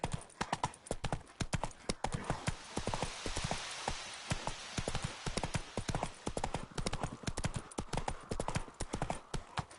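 Roach, a horse in the video game Witcher 3, trots with steady clip-clopping hooves throughout, the rapid hoofbeats close and loud against a faint background of ambient game sound.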